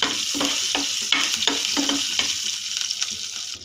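Chana dal, urad dal, garlic, dried red chillies and curry leaves sizzle in hot oil for a tempering, with several scraping stirs of a spoon over a steady, loud frying hiss.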